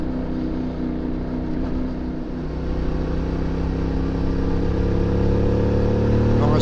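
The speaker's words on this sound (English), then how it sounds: "The exhaust sounds brilliant on the bike." A CF Moto 450MT motorcycle climbing an alpine mountain road, its engine and exhaust droning loud and steady with a gradual rise in pitch as it pulls uphill, mixed with rushing wind noise.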